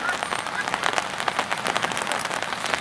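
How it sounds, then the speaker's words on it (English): Rain patters on an umbrella during an under-16 boys' rugby sevens match in Belleville, a soft, steady crackle of drops close by, without talk. "you probably can hear the pitter-patter of rain on my umbrella"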